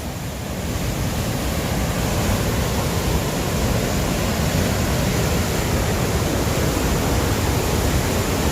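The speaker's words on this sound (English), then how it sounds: "This is Dettifoss, and it's the most powerful waterfall in Europe." Dettifoss waterfall in Iceland, Europe's most powerful, roars in a dense, unbroken wash of noise, loud and close, with no other sounds breaking through.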